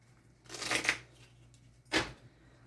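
A brand-new, stiff deck of playing cards, jokers included, is riffle-shuffled nearby in two bursts: a longer crisp flutter of snapping cards, a pause, then a second short sharp riffle.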